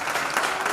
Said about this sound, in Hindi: सब लोग ताली बजाते रहो भाई,